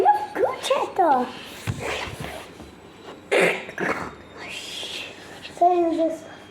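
A puppy yelps and barks in short, high bursts among children's chatter and babbling, the small dog close by and intermittent under the voices.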